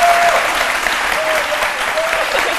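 Studio audience applause rings out on an Ivorian midday TV show, a dense, steady clapping that fills the whole stretch at close range, with a faint whistle-like tone surfacing a few times.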